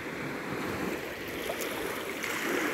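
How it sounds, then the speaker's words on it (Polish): Waves of the Mediterranean Sea on the Turkish Riviera, a steady broadband wash of surf with soft rushing texture, continuous and moderately loud, no voices. "przysłuchajmy się teraz Morzu Śródziemnemu"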